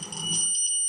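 A compact laser level, model A8826D (AK435), gives off a short high electronic beep, a steady piercing tone lasting under a second in a quiet room.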